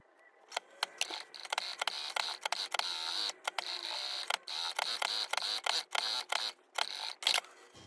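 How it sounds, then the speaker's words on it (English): A sewing machine stitches around the edge of a homemade Christmas cushion sewn from fabric scraps, running in quick, close mechanical bursts with short pauses between runs. "I'm going to stitch all the way around the edge"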